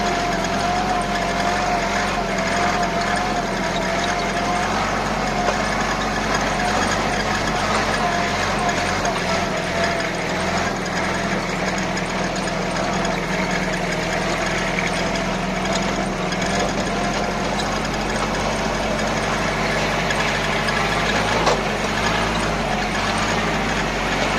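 Tractor with a front blade rolling downhill, its engine giving a steady loud low rumble and drone for the whole stretch, with speech from the cab over it.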